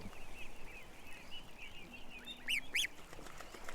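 A goose gives two short, nasal honks close together near the end, fairly faint over a hushed background hiss.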